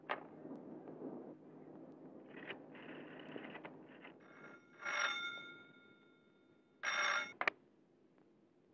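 A telephone bell rings indoors in two short, bright bursts a couple of seconds apart, over a faint background hum, with no talk during the rings.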